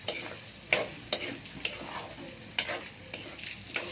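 Meat frying with onions, garlic and ginger in a pan, a soft continuous sizzle broken by repeated sharp clicks and scrapes of a utensil stirring at close range.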